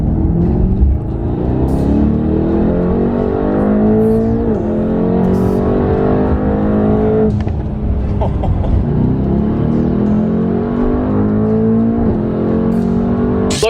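A tuned 2018 Mercedes-AMG E63S making about 700 horsepower revs hard and loud, its engine note climbing in repeated sweeping pulls with brief drops between, sustained and close throughout.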